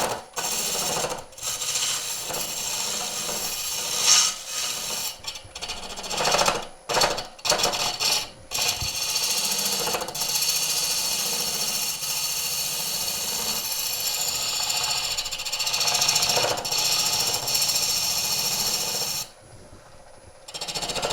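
A Woodcut ProForme hollowing tool cuts into wood spinning on a lathe, giving close, irregular scraping and chattering bursts broken by short pauses, without speech.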